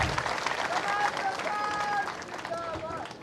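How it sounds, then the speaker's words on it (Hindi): At a BJP election rally in Chhattisgarh, a large crowd claps in dense, sustained applause, mixed with cheering and a murmur of voices. "एक बार करतल ध्वनि करके, ताली बजा करके"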